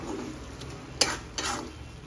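Greens being stirred in a pan, a faint background sizzle with two distinct scraping clinks of a utensil against the metal, close and quiet.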